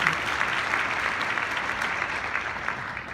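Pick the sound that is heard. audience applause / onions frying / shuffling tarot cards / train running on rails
audience applause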